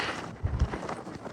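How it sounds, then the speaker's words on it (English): Gusty wind on a mountain summit in Denali National Park buffets the microphone with low rumbling thumps and a broad rushing roar throughout. "Oh, it's windy."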